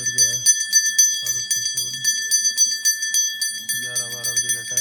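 A temple bell on the Shrikhand Mahadev mountain pilgrimage route rings over and over, bright and metallic with a steady rhythm, while people talk nearby.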